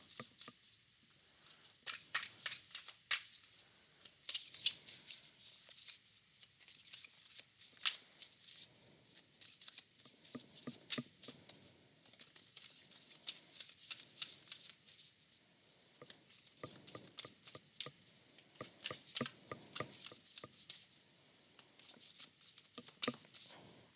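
A deck of cards is shuffled over and over during a tarot-style reading, giving a steady run of crisp riffling and flicking bursts, close and fairly quiet, with no one talking.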